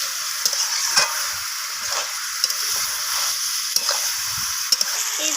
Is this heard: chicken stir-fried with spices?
yes